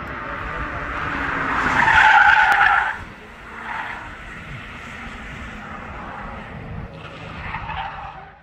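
A Hyundai Ioniq Electric car runs on a kart racing track, with a loud swell of tire squeal and whine around the middle, then quieter passes and a faint squeal near the end, no talk.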